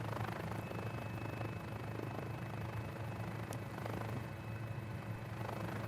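Simulated Mini 500 light helicopter engine in Microsoft Flight Simulator, a quiet, steady low drone with a constant rotor hum, faint and unbroken throughout.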